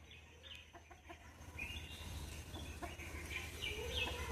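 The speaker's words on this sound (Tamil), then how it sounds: "கிண்ணி கோழி மட்டும் வரணுமா?" Guinea fowl cluck and call in short, scattered bursts at a fair distance, faint over a low background hum, with no one talking.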